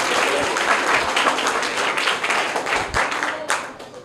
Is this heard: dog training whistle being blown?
no